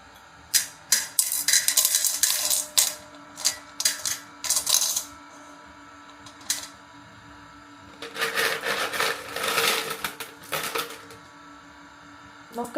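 Small stones dropped and clattering into a goldfish tank during cleaning, arranged around an aquarium plant; clusters of sharp clicks and rattles come in bursts, near and fairly loud, with quiet gaps between.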